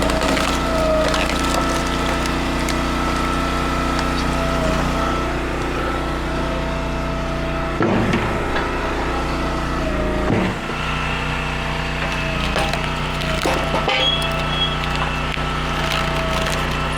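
An entry-level log splitter with a log lift and a four-way wedge runs at a steady engine drone while it splits ash wood. Sharp wooden cracks and splintering pops break out at several points over the constant hum.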